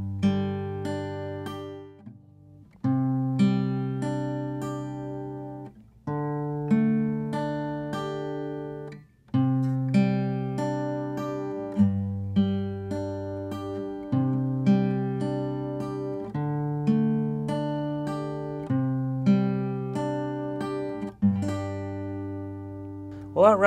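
Fingerpicked acoustic guitar plays a steady, repeating thumb-first-second-third-finger arpeggio pattern through a slow chord progression, clear and close with no talking.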